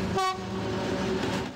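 A long freight train rolls past at close range, its horn sounding briefly near the start over a steady rumble of wagons on the rails, with no voices.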